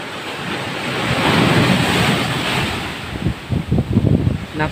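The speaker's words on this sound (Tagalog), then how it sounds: "Napakalaki po ng alon." Large ocean waves surge and crash close to a seaside house, a loud sustained roar of surf with heavy wind buffeting, then choppier breaking bursts toward the end.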